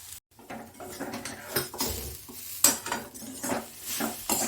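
Mashed peas with salt, turmeric, a little sugar and cumin powder are stirred in hot oil in a wok for a kachori filling, giving soft scraping and clinking spoon strokes over a light sizzle.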